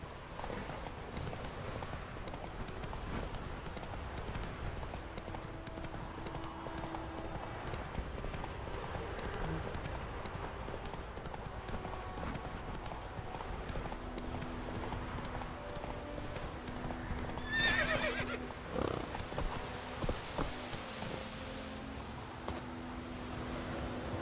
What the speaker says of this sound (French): Au galop, Ablette